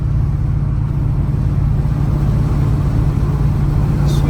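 A lowered 1985 Chevrolet C10 square-body short box pickup drives down the road, its engine a steady, loud low drone that holds even throughout with continuous road rumble.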